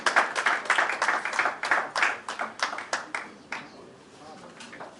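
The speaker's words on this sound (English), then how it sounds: "Give him a round of applause." A brief round of clapping from the audience at a climate and business continuity forum, welcoming a Nigerian Navy rear admiral; dense, close hand claps over several seconds that thin out and fade toward the end.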